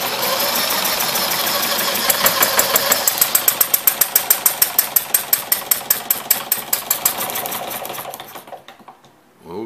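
A Webster engine fitted with a Chuck Fellows carburetor runs with a loud, rapid, steady chuffing that sharpens into distinct regular beats, then fades out near the end and stops.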